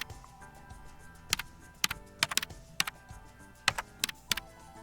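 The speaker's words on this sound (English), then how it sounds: "The text editor allows line breaks by pressing the return key on the virtual keyboard." Keys tapped on a virtual keyboard in a text editing tool give a string of quiet, irregular clicks, some in quick pairs, close and alone against a faint background hum.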